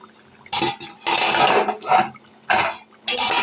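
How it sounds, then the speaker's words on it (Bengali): Metal lid set on a pot of beef curry cooking with garlic, several separate clattering knocks and scrapes spaced across a few seconds, close and fairly loud against a quiet background. "এখন ঢাকনা দিয়ে ঢেকে দিব"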